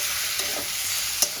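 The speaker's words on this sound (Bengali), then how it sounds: "সেই টমেটোটা দিয়ে দেবো। টমেটোটা দিয়ে আমি" Sliced tomatoes stir-frying in a pan for a Bengali katla fish curry, a steady bright sizzle with a couple of soft scraping stirs, close and continuous.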